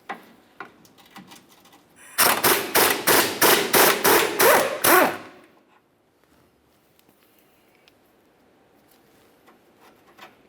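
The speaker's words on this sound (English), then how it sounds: "On the front, there's an 18mm headed nut. Let's go ahead and remove that nut." An 18mm nut comes off a Ford Explorer Sport Trac transmission mount as a rapid, loud burst of about ten evenly spaced impact-tool hammer blows, then quiet with scattered light taps.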